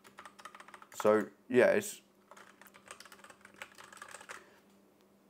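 Clicky keystrokes from a cheap plastic mechanical keyboard bought from Temu, tapped in short irregular runs close by, interrupted by a brief spoken phrase.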